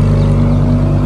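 A Pontiac Firebird engine rumbles loud and close on a town square, a steady deep roar holding throughout the short stretch with no voices.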